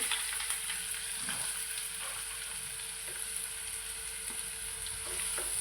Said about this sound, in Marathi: त्याच्यात मी राई टाकली राई चरतडलेली आहे त्याच्यानंतर हा कढीपत्ता टाकते कढीपत्ता टाकलेला आहे आणि हा कांदा टाकते